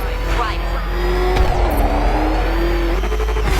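Batmobile engine in the Batman: Arkham Knight video game, revving loudly with rising and falling pitch and a brief tire-like squeal, with voices talking over it throughout.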